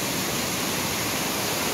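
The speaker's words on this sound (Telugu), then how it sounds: "సో ఇది గండహతి వాటర్ ఫాల్ అనమాట" Steady broadband rush of Gandahati waterfall in Gajapati district, Odisha, a constant close wash of falling water heard alone without voices.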